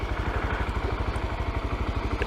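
A Honda Grom motorcycle riding through Zion gives a steady, rapid engine pulse, close and fairly loud, with a rough, throbbing low rumble and no voices.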